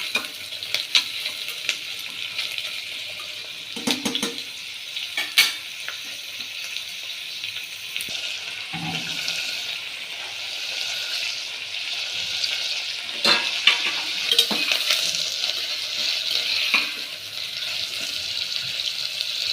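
Palak rice with carrot being stirred in a pan, a continuous bright sizzle with scattered scraping clinks of the spoon against the pan, close and steady with no talking.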